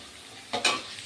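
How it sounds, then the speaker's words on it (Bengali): Potatoes frying in a pan, with two short stirring scrapes and sizzling bursts breaking a low background hiss. "আলু ভাজার পালা।"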